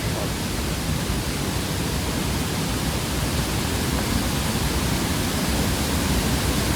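Chilanthiyar waterfall at Vattavada after heavy rain, a loud, constant roaring rush of falling water filling the space without pause, heard up close with no other sounds.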